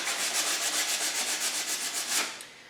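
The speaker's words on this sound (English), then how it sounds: "I'm going to sand some of these edges down so that we can see a little more" Edges of a cracked piece are sanded by hand in quick, even back-and-forth strokes, a close rhythmic rasping that runs for about two seconds and then stops.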